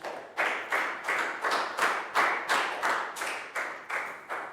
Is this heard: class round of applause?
yes